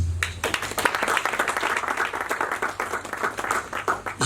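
A church congregation claps steadily through a French-language worship service, a dense and continuous round of applause.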